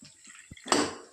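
A short splash of a little water poured onto half a beetroot in a bowl, preceded by a few soft clinks and taps; close and brief.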